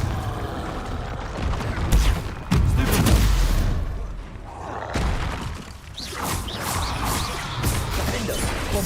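Repeated Confringo blasting spell explosions in the Hogwarts Legacy video game, sharp crashing bursts, the loudest near the middle, over a busy mix of continuous game effects.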